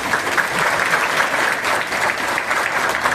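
A crowd claps steadily at a Gita Jayanti religious gathering with a grand aarti and sermon in a Lakshmi Narayan temple, the loud, dense applause filling the hall without pause and with no speech over it.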